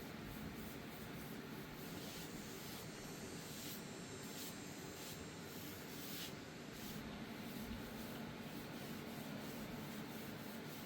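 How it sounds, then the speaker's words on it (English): Java-color General Finishes oil-based gel stain worked onto wooden legs for a cherry table, a faint, continuous rag-rubbing hiss with soft repeated strokes, no talking. "I'm ready to stain the legs, and I'm going to use this General Finishes Oil Based Gel Stain."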